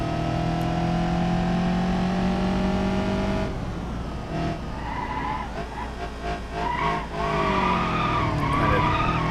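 Automatic car driven hard on a track in BeamNG: a sustained engine drone holds for a few seconds, then a gear change, and tire skidding and a rougher, varying engine note follow.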